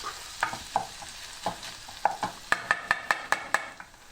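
Ginger, garlic and onions fry in a pan with a soft sizzle under repeated stirring, the utensil scraping and tapping in a quick rhythmic series of clicks close by.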